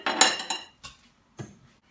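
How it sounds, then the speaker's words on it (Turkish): Several sharp knife taps while chopping boiled tripe on a plate, a quick cluster of clinks followed by two isolated knocks after short pauses. "haşlamış olduğum işkembemi küçük küçük doğrayacağım"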